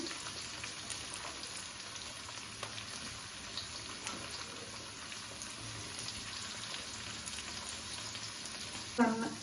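Capsicum frying in a pan for a yoghurt capsicum dish gives a steady, dense sizzle like light rain, running evenly throughout with a brief louder clatter at the very end; no voices.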